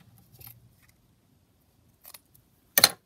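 Scissors snip paper for a collaged sheet-music pocket and paper bag, a single sharp cut near the end after a few faint rustles, close and otherwise quiet.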